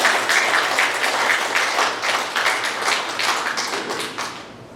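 A church congregation claps during a Korean Sunday service, the individual claps distinct and rhythmic, nearly in unison, over a low sustained organ or keyboard tone, fading slightly at the end.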